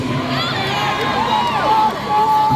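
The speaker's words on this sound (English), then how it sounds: "I'm hearing a lot of the ladies screaming." A live concert crowd with many women screams and cheers, high voices rising and falling in overlapping shrieks, loud and sustained throughout.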